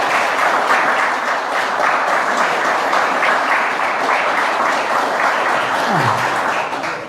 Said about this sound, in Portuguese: Irmãos, dá uma salva de palmas para Jesus.